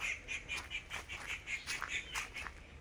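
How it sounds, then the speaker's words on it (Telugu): Crows on Bhavani Island near Vijayawada give a rapid series of harsh, close caws, about a dozen repeated calls in quick rhythm with no talking. "ఏంద్రా కాకిలు అడుగుతున్నాయి"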